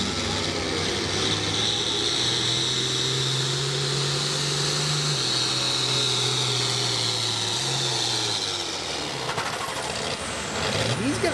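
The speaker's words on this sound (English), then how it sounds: "The tractor just going right down through there" Outlaw farm pulling tractor engine roaring continuously down a fairground track, a loud sustained drone with shifting pitch, with an announcer talking over it.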